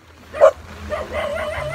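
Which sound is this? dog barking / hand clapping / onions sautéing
dog barking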